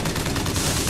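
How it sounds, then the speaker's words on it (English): Bursts of fire from the volley gun in the video game Bioshock Infinite, dense rapid reports crowding together in under a second, loud and close with no talking. "Volley gun. Oh my god, the volley gun is beautiful."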